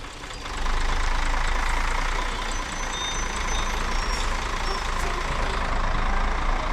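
A grab lorry with fresh paintwork idles close by, a steady low engine rumble with faint high beeping, starting abruptly after a brief quiet moment and holding level throughout.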